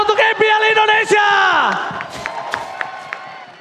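A large crowd at an MPL Indonesia Mobile Legends esports playoff match cheers and shouts loudly, with scattered clapping and a long descending yell, the noise gradually settling into a lower roar.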